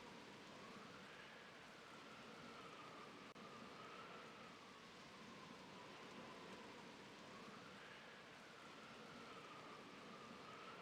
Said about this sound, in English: And it was raining.